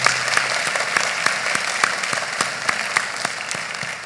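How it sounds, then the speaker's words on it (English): Applause from a campus forum audience, steady crowd clapping with distinct nearby hand claps standing out in an irregular rhythm, moderately loud throughout. "I want us to just give a quick round of applause for all of those in our ROTC program"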